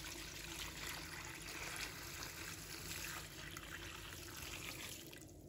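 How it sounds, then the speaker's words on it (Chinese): Clean water pours into a bowl of king oyster mushrooms with a spoonful of salt, making a soft, continuous running-water stream that stays faint and even throughout. "倒入清水，"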